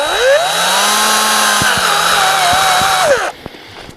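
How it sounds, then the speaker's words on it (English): Cordless power drill boring a small hole through a plastic bottle lid, a loud close whine holding steady for about three seconds with small pitch dips under load, then spinning down and stopping, followed by faint clicks. "Drill a nice little hole right in the lid."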